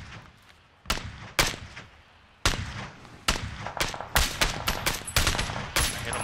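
Gunfire in PlayerUnknown's Battlegrounds: loud, sharp shots cracking out singly and in quick irregular clusters, some close and punchy, each leaving a short ringing tail, with no voices over them.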